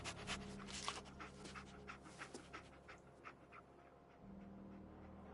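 Dogmeat, the dog companion in the video game Fallout 4, pants rapidly in steady bursts with a faint whimper, close and moderately quiet over a low game ambience hum.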